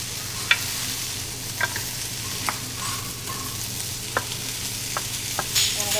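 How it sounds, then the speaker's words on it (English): Grated carrot and other vegetables sauté in a pan with a constant soft sizzle, while a utensil stirs and scrapes in scattered light clicks and taps over the frying; no voices. "I'm going to let this sit for about, or saute for about 5 minutes. I'll keep stirring it to make sure it doesn't stick."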